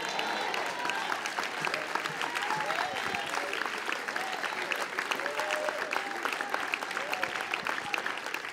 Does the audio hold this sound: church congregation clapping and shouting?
yes